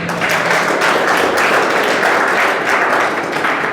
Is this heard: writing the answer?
no